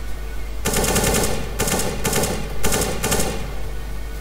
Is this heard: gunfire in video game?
yes